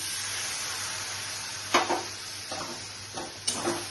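Gram flour (besan) goes into a sizzling pan for a cheese paneer curry: a quiet, steady sizzle with several short, close stirring scrapes, and no one talking.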